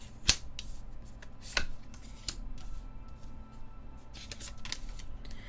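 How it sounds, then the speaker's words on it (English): A deck of playing cards being shuffled: a couple of sharp snaps followed by soft, quick rustling riffles, close and fairly quiet. "When you're shuffling cards."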